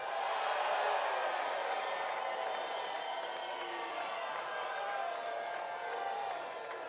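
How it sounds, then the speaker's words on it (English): Large outdoor crowd at the Fancy Farm political picnic in Kentucky cheering and shouting as a continuous dense roar that stays loud for the whole stretch, heard from a short distance. "you hear the crowd behind us. They are going absolutely crazy"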